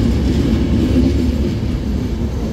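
Inside a full passenger train moving along Valea Prahovei, a steady loud rumble of the carriage fills the space with no break.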